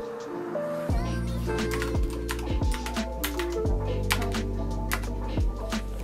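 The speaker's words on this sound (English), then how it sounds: "This is why I have this cute small ducky keyboard that fits perfectly next to my screen." Rapid clicky keystrokes on a small white Ducky mechanical computer keyboard with some pink keycaps, steady typing close up over a sustained tonal music bed.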